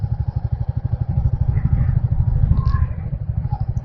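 A motorcycle carrying a load rolls along a rural road at low speed, its engine thudding in a steady rapid pulse, loud and close throughout with a brief voice heard over it.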